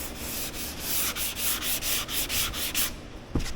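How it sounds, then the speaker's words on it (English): Hand sanding of a body panel during a frame-off restoration of a 1995 Ford F-Superduty crew cab 4x4, a steady rhythmic scrubbing of paper over metal, strokes about every quarter second, close and loud, ending with a brief knock. "so we're going to keep sanding that till we get"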